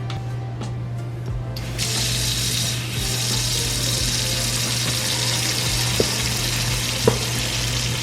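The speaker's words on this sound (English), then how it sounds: "We're going to go ahead and fill it up with some hot, steaming hot water" Steady rushing of hot tap water pouring into a bowl, a continuous broadband hiss that starts abruptly and runs throughout, with a couple of small clinks.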